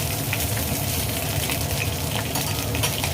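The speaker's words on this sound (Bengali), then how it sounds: "বেশ খানিকটা সর্ষের তেল দিয়ে দিয়েছি, দিয়ে পটলগুলোকে ভালো করে ভেজে রাখছি" Pointed gourd pieces frying in a generous amount of mustard oil, a steady dense sizzle with soft clinks and stirring scrapes throughout, no talk.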